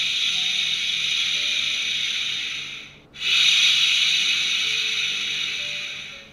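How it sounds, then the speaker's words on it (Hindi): A baby shusher white noise machine gives off a steady rhythmic hiss, a close shushing sound that pauses briefly in the middle before resuming at the same level. "ये बेसिकली एक वाइट नॉइस मशीन है जो साउंड प्रोड्यूस करता है।"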